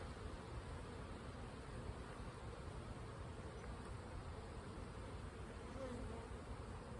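Honeybees hum in a steady, dense drone around an open hive during an April colony inspection, a continuous close buzzing swarm with no pauses.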